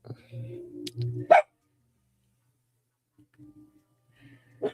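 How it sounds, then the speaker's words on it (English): A dog named Ritas gives a couple of short barks, near and fairly loud, with a final sharp bark after a quiet gap. "Let's see if Ritas wants to bark."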